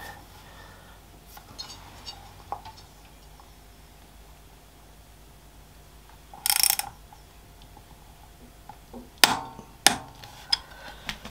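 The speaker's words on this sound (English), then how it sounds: "this needs to be tightened up between 15 and 19 newton meters" A ratchet wrench tightens coil cover bolts on a 2021 Harley-Davidson Sport Glide, with a burst of ratcheting near the middle and a few sharp metallic clicks and knocks afterward against a quiet background.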